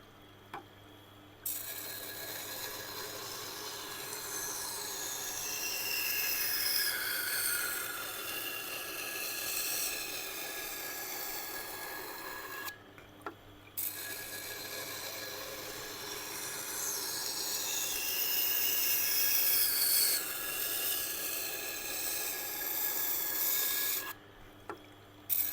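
A knife rasps back and forth on a resin bonded diamond sharpening stone in long, steady strokes, loud and close, with two short pauses between runs.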